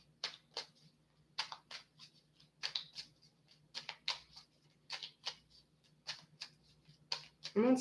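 Tarot cards are shuffled close by in quick, crisp riffling bursts that repeat steadily, with a low hum underneath.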